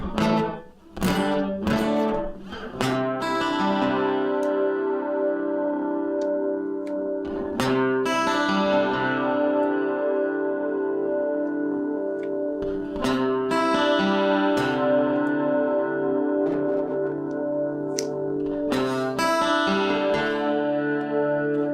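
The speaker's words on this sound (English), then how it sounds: "let's bring the mix up so we can actually hear the reverb a little bit" Electric guitar chords played through a Fender Tone Master Pro amp modeler with its reverb mix turned up ring out with long, washy sustained tails, a few strums struck over about twenty seconds, with no talking.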